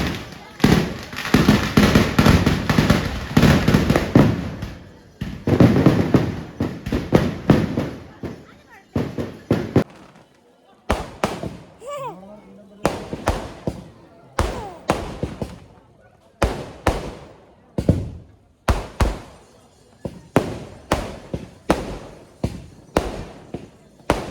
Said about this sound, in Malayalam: ദീപാരാധന കഴിഞ്ഞ പാടെ വെടിക്കെട്ട് സ്റ്റാർട്ട് ചെയ്തു